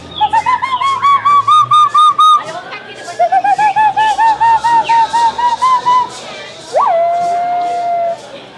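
A person whistles an imitation of an owl or monkey call: a series of rapid warbling trills, a pause, then more trills ending in a sharp upward swoop and a held note, close and clear.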